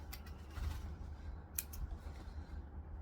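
Scissors snipping thread tails on a stained glass tote bag, a few quiet crisp snips close by, no talk.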